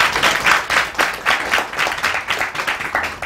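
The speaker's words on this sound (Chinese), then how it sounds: "那我们给我们的台湾团队一个掌声好不好？" An audience at a talk in Taipei claps steadily for a Taiwanese balloon-art team, a dense, even applause close by that holds for several seconds.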